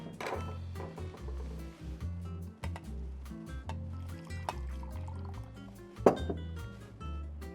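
Water pours and trickles steadily into thick masala for Goan fish curry, with small splashes and a louder splash near the end, close by and with no talking.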